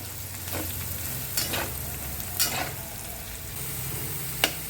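Potato pieces frying and browning in a pan for fasting sabudana khichdi hiss with a steady close sizzle, with a few sharp scrapes and knocks of a spoon stirring through them.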